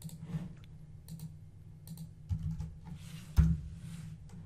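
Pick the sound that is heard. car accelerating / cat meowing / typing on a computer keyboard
typing on a computer keyboard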